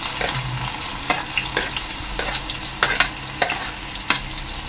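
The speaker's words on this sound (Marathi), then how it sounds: "तेल इथे चांगलं गरम झालेलं आहे। आता मी टाकते याच्यात कांदा," Onion sizzling in hot oil in a pan, a steady close crackle with regular scraping stirs about every half second and a faint tonal hum underneath; no one speaks.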